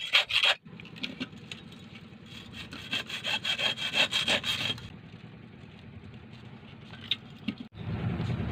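Rhythmic rasping strokes of a saw cutting through a washing machine motor to remove its copper, a short burst then a longer steady stretch, close and fairly loud.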